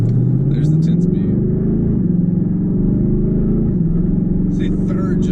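A 2019 Ford Mustang GT convertible with its 10-speed automatic pulls steadily, the engine note climbing and dropping through shifts in a continuous close, loud drone with no talking.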